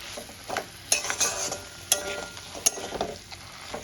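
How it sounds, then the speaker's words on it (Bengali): Katla fish head being stirred and sautéed with spices in a pan, a soft continuous sizzle broken by a few sharp clicks of a utensil scraping the pan, close with no talking. "মশলার সঙ্গে কষাতে থাকবে"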